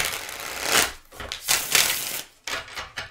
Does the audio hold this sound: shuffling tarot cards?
yes